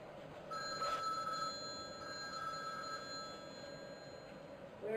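A telephone rings loudly and steadily with a sustained electronic bell tone through most of the moment, in a quiet room with no talking.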